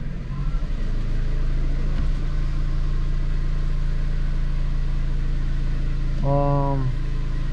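A 2008 Dodge Avenger with a power fault idling without revving, a steady low engine hum throughout, with a brief tonal beep near the end.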